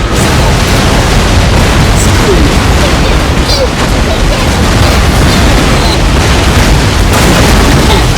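Naval cannons fire during a ship battle in Napoleon: Total War, with dense, loud overlapping booms and crashing bursts over a constant roaring din, continuous throughout.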